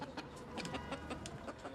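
Domestic chickens cluck in short, scattered calls that come and go over a steady background, nearby and moderately loud, with no one talking.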